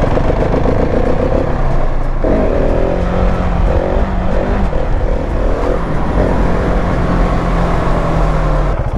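A 2022 Husqvarna 701 Supermoto's single-cylinder engine roars steadily while riding, close and loud, with rising and falling pitch through gear changes over constant wind and road rumble.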